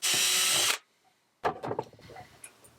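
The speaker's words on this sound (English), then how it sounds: "I'm just going to drill these 2 holes first." A power drill drilling holes whines loudly and steadily for under a second, then stops; after a pause come clattering knocks and handling noises close by.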